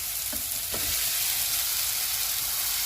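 Chicken mince frying with onion and tomato in a pan makes a dense, even sizzle close by, with a couple of brief stirring scrapes near the start and no voices.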